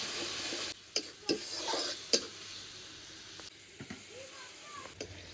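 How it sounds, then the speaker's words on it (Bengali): Spice masala of turmeric, coriander powder and red chilli with a little water sizzles in a pan while being sautéed, a steady hiss broken by a few sharp clinks and scrapes of stirring. "অল্প একটু জল সব কিছু এবার ভালো করে কষাবো"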